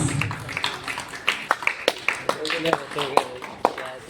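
A small crowd at a swimming competition medal ceremony at MH Club & Resort in Ranchi gives scattered, distinct claps for the winner, uneven and fairly close, while a voice keeps talking over them.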